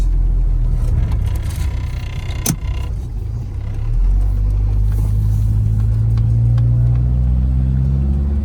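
A Ford Mustang Foxbody engine rumbles and revs with a loud, throaty aftermarket exhaust, the pitch climbing steadily in the second half as it accelerates.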